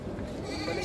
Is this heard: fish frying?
no